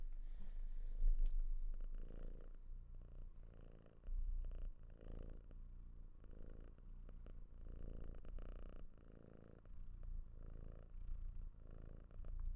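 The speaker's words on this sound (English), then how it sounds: "Do you hear her purr? She has a loud-ass purr." A cat purrs loudly and close up, a continuous rumbling purr with a steady rhythmic pulse of breaths in and out.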